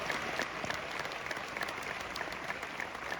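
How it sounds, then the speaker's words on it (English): An audience claps steadily and fairly loudly throughout, a continuous crackle of many hands with no voices over it. "Let's clap for that,"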